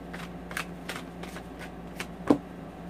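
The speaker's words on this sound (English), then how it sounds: "I'm going to pull in one card to oversee your reading." A Tarot of the Tattoo Age deck is riffled and shuffled in a quick run of soft, papery flicks, about eight close strokes, ending with a sharper snap as one card is drawn, with no talk.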